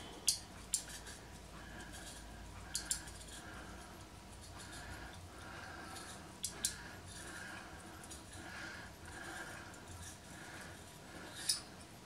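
A potato peeler cutting through a raw potato, a series of soft scraping strokes punctuated by sharp metallic clicks and ticks at irregular intervals, quiet and close, with no talking.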